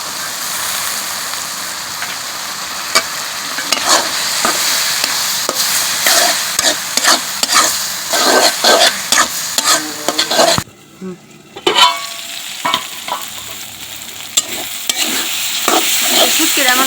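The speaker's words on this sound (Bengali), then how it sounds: "তো মশলার সাথে আমি শুটকিটাও দিয়ে দিতেছি," Spice paste and dried lotia fish stir-fry in a pan, with a steady loud sizzle broken by repeated scraping strokes of a spatula and a brief pause before stirring resumes.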